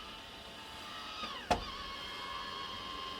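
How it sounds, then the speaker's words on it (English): A MaxxFan roof vent fan in a van starts up with a soft electric whine and a brief click, then settles into a steady, quiet motor hum that continues alone. "It's for the max fan. So if I say"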